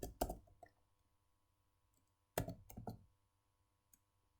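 Mouse clicks in Revit software: two clusters of sharp, close clicks a couple of seconds apart, then a faint single tick, quiet otherwise.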